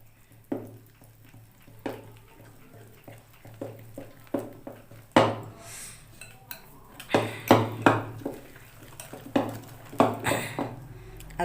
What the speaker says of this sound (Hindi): अब इसको हम अच्छे से मिलाएंगे